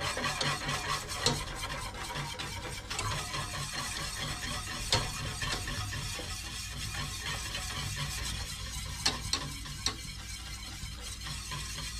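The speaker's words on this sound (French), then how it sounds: "nous allons mélanger sans cesse jusqu'à ce que notre crème pâtissière épaississe légèrement" A whisk stirs thickening pastry cream for profiteroles in a saucepan, making a steady, continuous scraping and swishing with occasional sharper clicks of metal against the pan, close and moderately quiet, with no talking.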